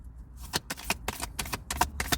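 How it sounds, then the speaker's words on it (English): Tarot cards are shuffled close up in a quick run of crisp riffling flutters and soft snaps, fairly quiet, with no talking. "I'm gonna do a different type of shuffle."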